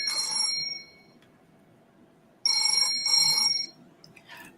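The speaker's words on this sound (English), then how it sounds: "that's a phone call" A telephone rings with an incoming call, two bursts of bright trilling bell tone separated by about two seconds of quiet, moderately loud against a low room hum.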